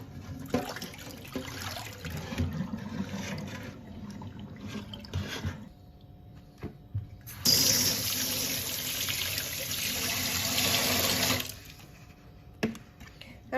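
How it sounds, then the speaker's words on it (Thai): Pork ribs rinsed under running tap water in a home kitchen, heard as two close bursts of splashing, running water, the first lasting about five seconds and the second, brighter one about four seconds, with a short quieter gap between them. "ล้างน้ำเปล่าหนึ่งรอบค่ะ"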